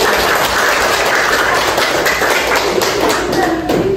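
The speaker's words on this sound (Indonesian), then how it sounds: "Tepuk tangan untuk kita semua" Schoolchildren clapping together in a classroom, a dense, fairly loud burst of hand claps and taps running steadily throughout, with scattered voices mixed in.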